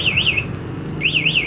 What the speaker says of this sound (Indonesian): kita aktifin alarm, pencet gembok tutup, digeser bunyi ya seperti ini